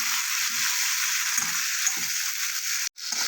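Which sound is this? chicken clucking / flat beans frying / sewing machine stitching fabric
flat beans frying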